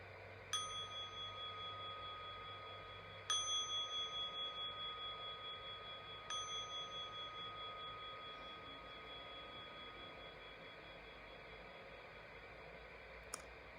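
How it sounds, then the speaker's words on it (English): A meditation bell is struck three times at a calm, even pace, each bright clear tone ringing on and slowly fading in a quiet room, followed by a soft click. "listening for the sound of the bell"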